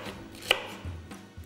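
A knife chops celery, onion and carrot on a board, a few crisp, close cuts with one sharp strike standing out, no talk.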